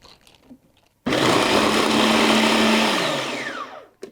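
A food processor chops cauliflower, starting suddenly after a quiet moment with a loud, steady whirring motor that runs for about two seconds, then its pitch drops as it winds down before stopping.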